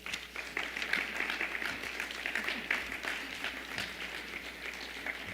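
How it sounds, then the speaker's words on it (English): Conference audience at an awards ceremony gives sustained applause, a steady dense patter of many hands clapping at moderate distance, continuous for several seconds without speech. "Keep clapping because we love you, Mary"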